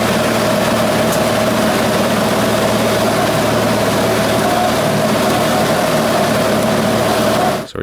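A Cessna 182 light aircraft engine drones steadily and loudly from inside the cockpit during a downhill landing approach to a bush strip at the Kako Retreat Center in Alaska, cutting off abruptly at the very end.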